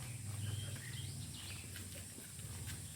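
Faint birdsong drifts in from a distance, scattered chirps and trills over a quiet outdoor hum.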